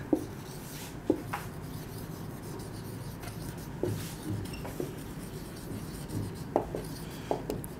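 Handwriting with a pen on paper, close and quiet, with soft scratchy strokes and occasional small taps as words are written out, in an irregular rhythm with short pauses and no talk.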